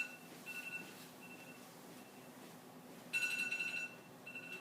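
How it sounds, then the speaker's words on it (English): A faint alarm beeping marks school bell times in a quiet classroom setting, soft repeated electronic tones with a brief louder burst partway through. "that's my alarm for our bells"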